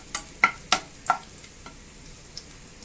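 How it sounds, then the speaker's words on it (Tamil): Dry grapes fry in hot ghee, giving a few soft crackles and sizzling pops early on before settling into a quiet, low sizzle, close by with no talking. "ட்ரை கிரேப்ஸையும் பொரிச்சு எடுத்துருவோம்."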